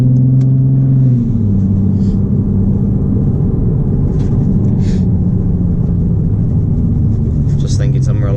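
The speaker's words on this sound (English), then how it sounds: "The Tommy's pretty quiet when you're just cruising around, to be honest. Like, the road is noisier than the Tommy is." A car cruising along a road gives a steady low rumble of engine and tyre noise, fairly loud and constant throughout.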